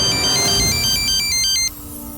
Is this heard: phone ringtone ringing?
yes